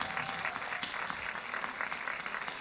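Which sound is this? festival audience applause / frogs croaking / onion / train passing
festival audience applause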